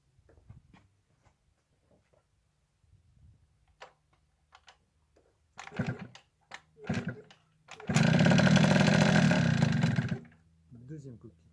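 A Peugeot 103 Fox Racer moped kick-started, with scattered clicks and kick attempts, then the two-stroke engine buzzing loudly for about two seconds before cutting out.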